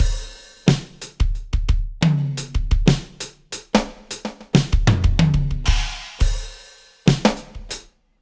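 Drum kit from the Roland XV synth expansion for the MPC plays a punchy pattern of deep kicks, sharp snares and cymbal crashes in a steady groove, loud and close with no talk.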